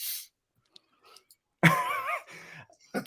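A brief throaty cough bursts out after a quiet stretch with faint small noises, followed by a rougher trailing vocal sound.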